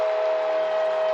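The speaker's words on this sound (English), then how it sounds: "He toots the horn." A train horn at a college baseball stadium, Patterson Stadium, sounded by its train conductor during an NCAA tournament game between Illinois State and Louisville: one steady, loud, sustained tone throughout, heard alone.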